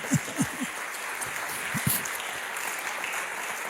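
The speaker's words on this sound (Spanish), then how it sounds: "¿Le das un aplauso al Señor?" A church congregation at a Spanish-language service applauds with a broad wash of clapping, joined by a few brief low vocal bursts early on before settling into an even, moderate patter.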